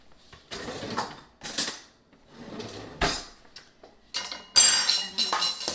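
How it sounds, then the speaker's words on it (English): Kitchen utensils clink and rattle as a knife is fetched before frosting scratch-made brownies, with several separate bursts of metallic clatter and handling noise, fairly close, with no talk over them. "And then I'm going to get a knife."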